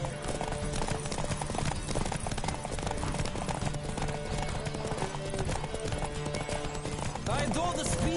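Horse galloping in a Witcher 3: Wild Hunt horse race, rapid hoof clatter running steadily under game music, with voices and a brief whinny-like sound near the end.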